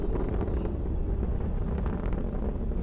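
Deep, continuous roar of the Atlas V rocket carrying the Mars Science Laboratory Curiosity rover as it climbs past the sound barrier, a steady broadband rumble with crackling texture heard from a distance, no voices.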